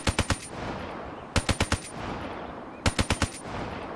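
Man-O-War rifle fire from the video game Black Ops 3: three loud bursts of four rapid, punchy shots each, spaced about 1.4 seconds apart, with a hissing room-like tail between bursts.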